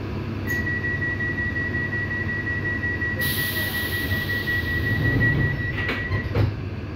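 A London Underground Piccadilly line train runs with a steady low rumble and a thin sustained whine, a hiss of air joining partway through and brief squeaks near the end, heard from on board with no talking.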